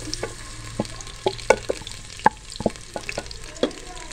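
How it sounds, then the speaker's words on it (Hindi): Sliced onions frying in half a cup of hot oil in a pressure cooker, a steady sizzle punctuated by scattered clicks and scrapes of stirring, no voices. "हाफ कप हमने ऑयल डाला है, साथ ही हम प्याज शामिल कर देंगे।"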